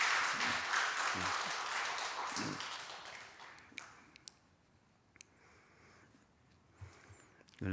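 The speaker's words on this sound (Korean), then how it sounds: "우리 수고한 자녀들을 위해서 박수로 우리 힘내라." A church congregation applauds children who have just sung and performed, a dense wash of clapping that starts strong and gradually fades over several seconds, leaving scattered claps and small taps in a quieter room.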